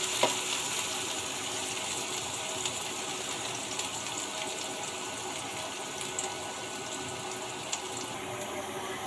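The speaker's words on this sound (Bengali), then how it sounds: "পেঁয়াজটাকে একটু ব্রাউন কালার করে ভেজে নিব।" Sliced onions browning in hot oil in a wok for a home-style okra and chicken dish, giving a steady, quiet sizzle that runs unbroken throughout with no voices.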